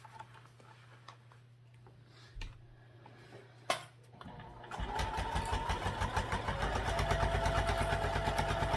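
A sewing machine basting a seam with a 1/8-inch allowance starts up after a few quiet seconds of small taps and clicks, then runs in a steady, close, rapid stitching whir to the end.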